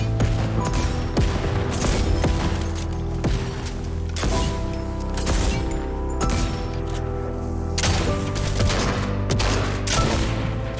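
Boom Sniper gunfire in Fortnite Chapter 3, dense continuous volleys of loud shots and blasts layered with game effects for the whole stretch, without pause.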